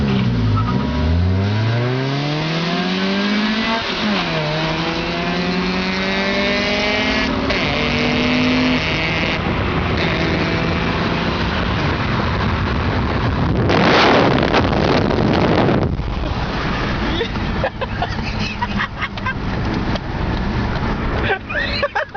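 A car with a 250-horsepower engine and 5-speed automatic accelerates hard, its engine note climbing and dropping through gear changes, loud and close with heavy wind noise and people talking and shouting over it.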